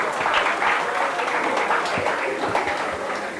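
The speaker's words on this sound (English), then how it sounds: "Give him a big round of applause" Applause from a conference audience on Women's Day, a steady dense clapping that fills the hall at close range, with faint voices underneath.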